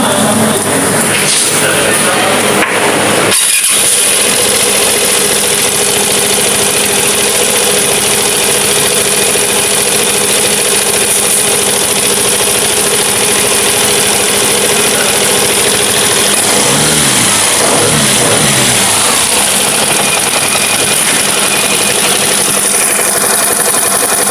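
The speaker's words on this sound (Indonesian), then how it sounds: "Dan ini RPM tiba-tiba turun sendiri terus langsung mati." A Vespa Matic scooter engine idles loudly and close at low RPM, a steady running drone with a brief dip early on and shifting tone toward the end.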